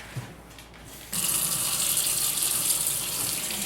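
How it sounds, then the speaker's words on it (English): A faucet switches on after a quiet second and warm water runs steadily into a sink for thawing salmon, a bright, constant rushing close by. "Get some water running"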